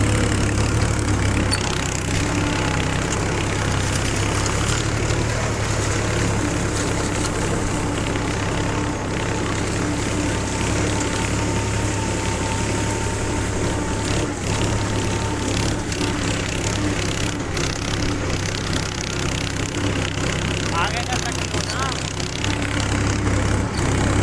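A Powertrac 434 tractor engine labors under load while harrowing a wet field, a loud, continuous low drone with a steady throb that holds unchanged throughout.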